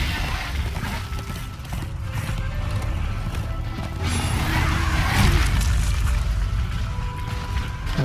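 A horse galloping in the video game Darksiders II, a steady rhythmic clip-clop of hooves with a neigh, heard continuously and moderately loud under faint game ambience.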